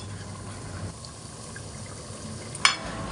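Mango pickle cooking on low heat in a pan as mustard paste is added gives a low, steady sizzle and bubbling, with one sharp clink about two-thirds of the way through.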